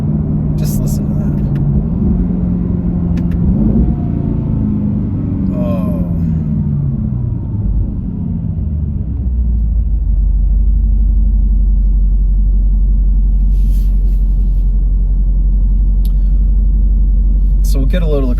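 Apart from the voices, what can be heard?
2025 Aston Martin Vantage V8 engine accelerating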